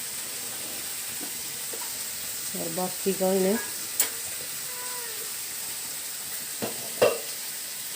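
Potato and bottle gourd curry sizzles softly in a pan under a steady hiss, with occasional clinks and stirring; someone speaks briefly nearby.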